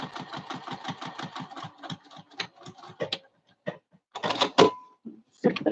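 Sewing machine basting a lining to the main fabric, running in a fast even stitching rhythm, then slowing into short separate bursts with pauses and handling clunks.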